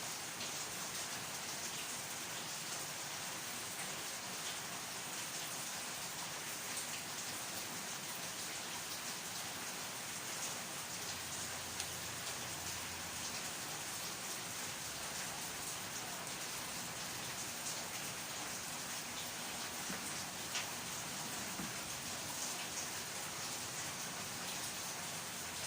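Steady rain falls as an even, dense hiss of drops on surfaces, unbroken and fairly distant, with no voices.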